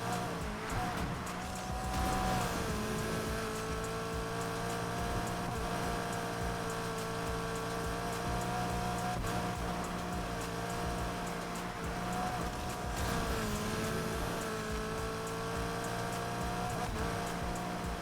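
A Mitsubishi Evo 9 in Need For Speed Heat runs steadily with a sustained engine drone, its pitch dipping and rising through turns, with faint tire noise over a continuous loud background.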